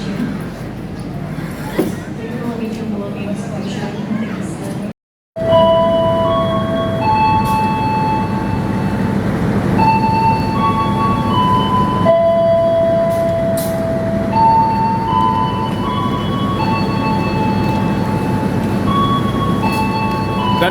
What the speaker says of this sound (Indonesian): Dan di jalur 2 ada yang melintas langsung kereta api Bogowonto dari stasiun Jogja Lempuyangan hingga tujuan akhir stasiun Jakarta Pasar Senen.